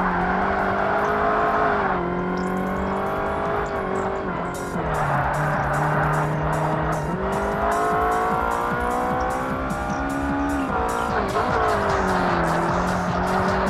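A yellow original Daihatsu Copen in Forza Motorsport (2005) drones at steady revs, its engine pitch climbing and dropping across several gear changes, with faint tire squeal layered over the loud, close, continuous engine note.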